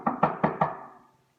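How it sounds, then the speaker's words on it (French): Four quick knocks on a door, evenly spaced and close by, fading into a short quiet tail. A young frog is rapping at the door of his friend the toad's house. "Il cogne à la porte."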